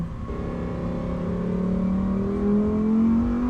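Steady car engine hum heard from inside a vehicle driving a scenic mountain road toward Mae Sot, Thailand, with a rising engine tone as it gradually accelerates, continuous and fairly loud, no talking.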